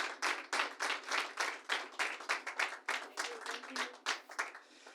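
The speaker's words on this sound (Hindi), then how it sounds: "एक बार जोरदार तालियां हो जाए प्रतिभा जी के लिए।" A panel-discussion audience gives rhythmic, fairly close applause for panelist Pratibha Singh, with distinct claps in a steady pulse for about five seconds and faint voices under it.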